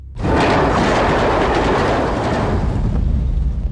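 A train rushes past on rails, starting abruptly and holding a loud, close, broadband roar with rhythmic clattering of wheels, slowly easing off toward the end, with no voices.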